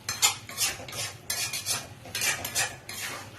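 Mutton being worked into masala in a pan over a lowered gas flame, bursts of metallic spoon scraping and clinks against the pan in quick uneven strokes, close and fairly loud, with no sizzle or voices.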